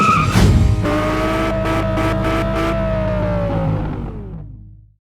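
A Nissan Skyline R33 accelerates hard on turbo boost, a loud close engine rising through a sharp burst and gear changes, then fading away toward the end.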